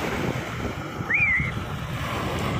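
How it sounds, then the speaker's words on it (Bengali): Sea waves and wind at the shore carry a steady, moderate wash of surf and breeze, with a brief high whistle-like tone in the middle and no talk. "পানির আর বাতাসর সাউন্ড"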